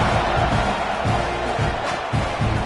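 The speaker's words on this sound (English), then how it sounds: "this crowd is feeling themselves after that last drive" A football stadium crowd roars in a continuous loud wash of cheering during a kickoff, with faint commentary talk mixed beneath.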